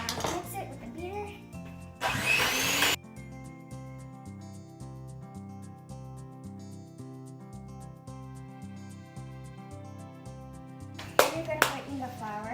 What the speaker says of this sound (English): Then you're gonna mix it with the beater.